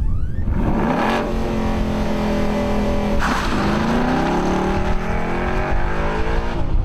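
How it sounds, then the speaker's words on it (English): A Ford EcoBoost engine held at a programmed launch speed of about 3,500 RPM, loud and close, its rising and falling tones shifting as the revs swing through several surges. "Once programmed, the engine idles at the set level, and you just drop it in gear to make your point."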